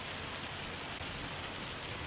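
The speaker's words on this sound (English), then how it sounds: "I'm gonna speed up the clock a little bit here to get past this hail." Hail falls in Farming Simulator 25 as a dense, steady hiss of countless pellets striking surfaces, loud and unbroken throughout, with no talking.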